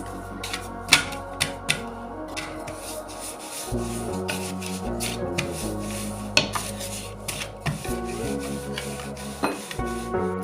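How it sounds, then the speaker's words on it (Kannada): Tomato dough rolled out with rice flour, a rolling pin rubbing and knocking on the board in repeated close scraping strokes and sharp taps, with kitchen hum underneath. "ಈಗ ಇದನ್ನು ಸ್ವಲ್ಪ ಅಕ್ಕಿ ಹಿಟ್ಟು ಹಾಕಿ ಲಟ್ಟಿಸ್ಕೊತೀನಿ ರೀ"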